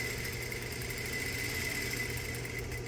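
A sewing machine runs steadily while stitching the corner of a patch or cargo pocket, a continuous mid-level motor hum with a faint high whine and no pauses.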